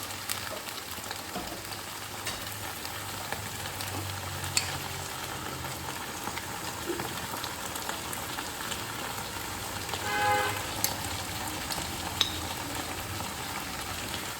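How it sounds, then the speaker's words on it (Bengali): Hot water hits frying ginger in a pan while cooking a vegetarian vegetable dish, giving a steady, crackling sizzle that continues evenly with occasional louder pops. "আদা দেওয়ার সাথে সাথে একটু গরম জল দিয়ে দেবেন।"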